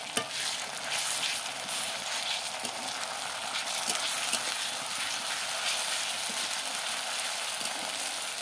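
Ginger-garlic paste sizzles as it is fried with browned onions and a pinch of salt in a pan, a steady, even crackle that holds at moderate loudness throughout with no one speaking.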